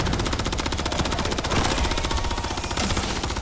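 Rapid automatic fire from a pack-a-punched gun in Call of Duty Zombies rattles in a dense, steady stream of sharp shots for several seconds, loud and continuous with no talking.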